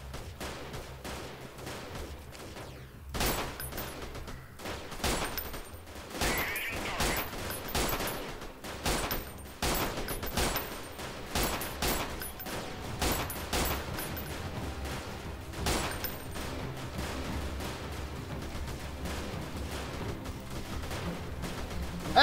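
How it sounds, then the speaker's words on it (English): Airstrike explosions in the game Freeman Guerrilla Warfare: after a quieter start, a string of sharp, loud blasts and bursts of gunfire arrive from about three seconds on, repeating irregularly with rumbling tails. "I could call in an airstrike."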